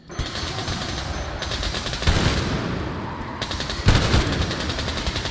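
Dense automatic gunfire from the video game Metro Exodus rattles in rapid, continuous bursts, loud and close, with brief shifts in intensity and no voices over it.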